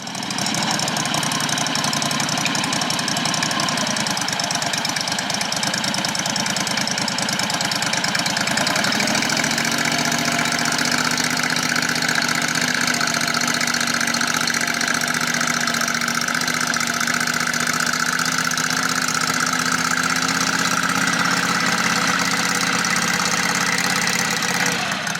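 A garden tractor engine with a Peerless 2300 transmission and swapped pulleys runs steadily in a low first gear, a continuous loud mechanical drone whose pitch shifts partway through as the load changes, with no talking.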